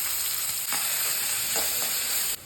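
Finely chopped large onions sizzle and crackle steadily in two spoons of hot refined oil, with a few soft stirring scrapes breaking through the frying noise.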